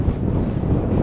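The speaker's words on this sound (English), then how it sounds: "It's not all that cold. It's just windy." Strong wind buffets the microphone at a winter camp in Oregon's high desert, a steady, loud low roar with gusty swells across the whole moment and no voices.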